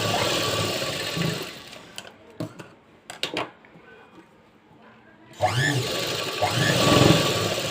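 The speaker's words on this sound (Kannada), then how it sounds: "ಫ್ಯಾಬ್ರಿಕ್ನ ಕೆಳಗಡೆ ಮೇಲ್ಗಡೆ ಕರೆಕ್ಟಾಗಿ ಅಡ್ಜಸ್ಟ್ ಮಾಡಿಕೊಂಡು ಸ್ಟಿಚ್ ಹಾಕೋಬೇಕು" Sewing machine stitching blouse fabric, a close mechanical whir and gear rattle at the start, a pause with scattered clicks and creaks, then a louder steady run resuming near the end.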